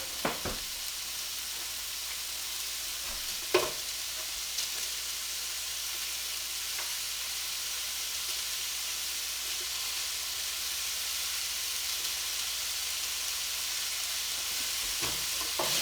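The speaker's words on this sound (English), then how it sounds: "Let this continue to saute until the sausage is completely brown." Italian sausage and onions sauté in a pan, giving off a soft, even sizzling hiss that holds steady throughout, with only a few faint clicks and knocks from stirring.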